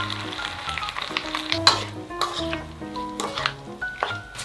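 Fish cake and potatoes stir-fried in a pan with green onion, chili and sesame oil: a close, steady sizzle broken by spatula scrapes and light clicks against the pan, with no speech.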